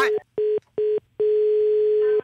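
A telephone line gives three short beeps and then a long steady tone after the caller hangs up during an Italian radio call-in show.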